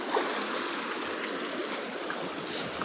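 Shallow seawater laps and washes along the shore during fishing, a steady, close, broadband swish of small waves with no pauses.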